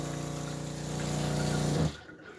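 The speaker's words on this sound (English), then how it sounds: "Now I turn the water on in the sink," An electric water pressure pump in a shed hums and whines steadily with rushing water from a sink tap, then cuts off abruptly near the end, leaving quiet hiss.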